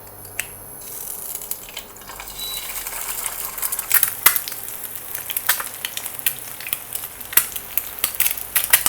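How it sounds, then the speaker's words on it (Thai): Crackling sizzle of an egg frying in a single pan, with sharp pops and spatters scattered throughout, fairly close and steady. "ทอดไข่ดาวก่อนนะคะ"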